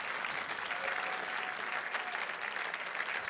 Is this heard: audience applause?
yes